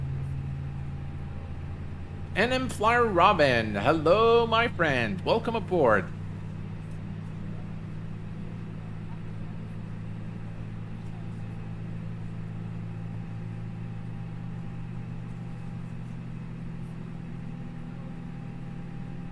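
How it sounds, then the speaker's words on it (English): FlyByWire A32NX airliner engines in Microsoft Flight Simulator 2020 hum as a steady low drone through the whole stretch, with a voice talking briefly over it near the start. "Very nice engine sounds."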